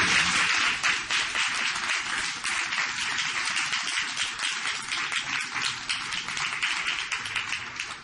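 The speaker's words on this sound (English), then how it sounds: "Let's put our hands together one more time and give Karen another applause for enlightening comments." Sustained audience applause at a club recorded for a radio broadcast, dense steady clapping from many hands throughout, fairly loud and unbroken with no talk over it.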